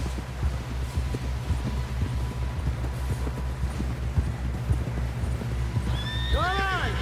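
A horse in the Red Dead Redemption 2 video game gallops with rapid rhythmic clip-clop hoofbeats over a low hum, ending with a loud neigh near the close, while people talk.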